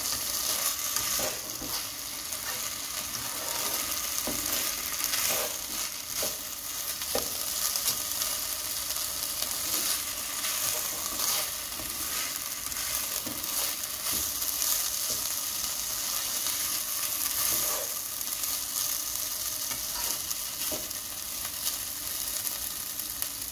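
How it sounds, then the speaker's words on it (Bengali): Rice and lentils fry together in a pot for bhuna khichuri, a steady broadband sizzle with occasional stirring scrapes and clicks running unbroken and fairly loud throughout, with no voices. "এখানেই আমি ভালো করে চালের সাথে ডালটা সহ ভেজে নিই"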